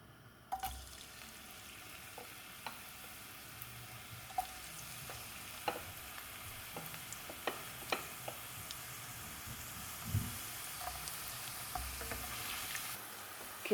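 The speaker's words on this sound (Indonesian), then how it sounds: "setelah minyaknya panas, kita tumis bawang bombay dan bawang putih dulu ya" Onion and garlic sautéing in hot oil in a pan, a steady soft sizzle with scattered clicks and stirring knocks throughout, no voices.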